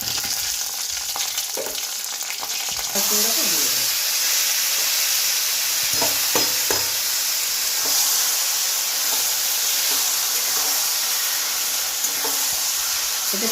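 Bay leaves and green chillies hit hot oil in a pan, a sharp burst of sizzling that settles into a continuous loud frying hiss with scattered pops and small clatters, close up and without talk.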